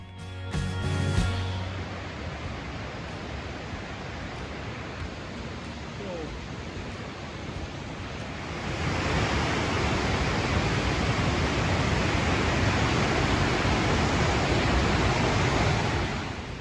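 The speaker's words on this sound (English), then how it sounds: "Here you can see the water gushing down." Steady broadband rush of water pouring down a creek from intermittent springs in Grand Teton National Park, loud and continuous, growing fuller and louder partway through with no voices.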